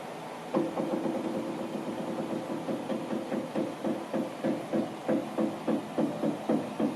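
A 1984 Caterpillar 966D wheel loader engine idling nearby, a steady diesel rumble with a regular throbbing pulse growing more pronounced, no talk.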